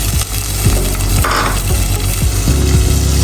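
Onions frying in hot oil with cumin, a loud, close, continuous sizzle broken by a few spoon scrapes against the pan.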